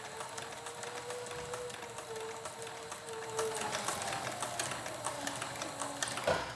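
A sewing machine stitches a leather coin pouch, running with a steady rapid mechanical whir and clatter, fairly quiet and alone without talk.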